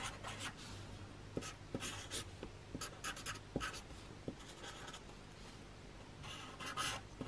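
A pen draws a book cover during a Pictionary guessing game: steady, close scratching and scribbling strokes with quick taps and pauses, continuing for several seconds with no talking.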